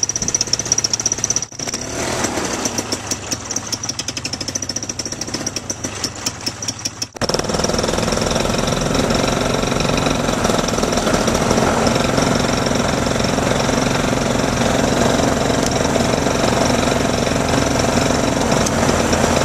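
A small model airplane motor fitted with a Gaskins flexible prop, heard as a loud, steady, buzzing drone that briefly stutters early on before settling into a continuous roar with no voices.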